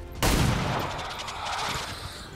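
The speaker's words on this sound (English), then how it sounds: "I'll just shoot it and soften it up with the pistol." A single sharp pistol shot from a soldier in the XCOM 2 War of the Chosen campaign, fired at a wounded sectoid, strikes loud and close with a brief tail of reverberating rumble behind it.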